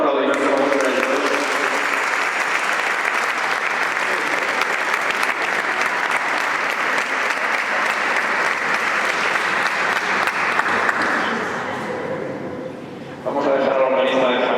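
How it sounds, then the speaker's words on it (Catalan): A crowd applauds loudly and steadily for several seconds at a Christmas choir concert before the clapping fades, with a voice speaking briefly at the start and end. "Però fort aplaudiment per a vostres ells"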